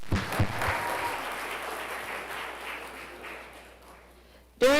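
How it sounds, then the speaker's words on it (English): Church congregation at a Sunday service applauding a children's ministry, a steady wash of clapping that fades gradually over several seconds before a brief sharp sound at the end. "Let's give them a round of applause, please."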